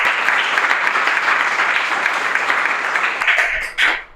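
A studio audience on a cricket talk show applauds loudly and steadily, a dense wash of clapping that continues close to the end before cutting off.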